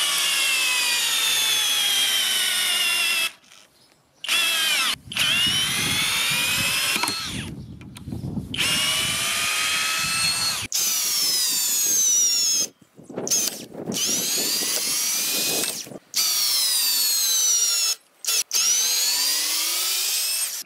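A HOTO 12V brushless drill-driver sinks a 9 cm, 7.5 mm screw into fairly hard wood, its motor whining loudly in repeated bursts that climb in pitch, broken by short pauses between pushes.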